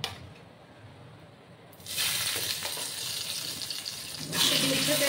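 After a quiet start, shing fish go into hot oil one by one and set off a loud, close sizzle that spits steadily, then surges louder near the end as more pieces are added.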